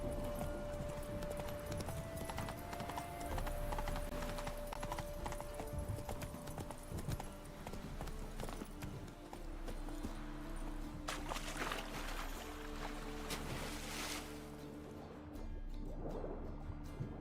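Horse hooves clip-clop steadily at a gallop through most of the stretch, loud and close, with a faint whinny and splashing water around them, in a video game setting with a rider's voice briefly calling out.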